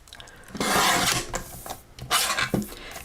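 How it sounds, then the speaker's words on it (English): Close rasping scrapes while the edge of a paper craft piece is trimmed, two longer rubbing strokes with a brief sharp click between, no talking. "I'm going to start by trimming this edge to make it even."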